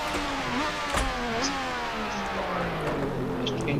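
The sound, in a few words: Williams FW07 F1 car engine in the video game Assetto Corsa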